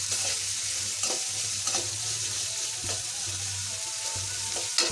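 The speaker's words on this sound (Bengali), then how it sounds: "একটু ভাজা ভাজা করে নিই" Ground garlic, onion, ginger and cumin paste fries in a pan, a continuous sizzling hiss broken by repeated scraping stirs and a low hum underneath, no talking.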